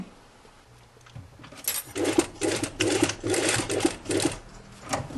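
Sewing machine stitching the kit-made Brigand jacket from Les Fées, running in several rapid bursts after a quiet start, with light metallic clinks alongside and no talk.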